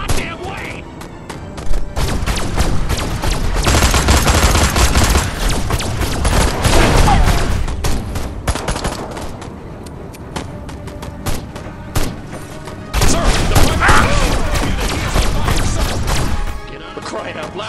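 Rapid bursts of weapon fire and explosions in the video game Destroy All Humans on PS4 Pro, loud and dense throughout, with character voices speaking over the shooting.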